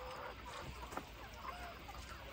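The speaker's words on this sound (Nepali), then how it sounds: "यहाँ 800 कुखुरा छ" Local chickens on a small poultry farm with about 800 birds cluck softly and intermittently, several scattered calls over a low, steady background hum.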